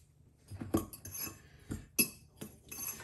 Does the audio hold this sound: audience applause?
no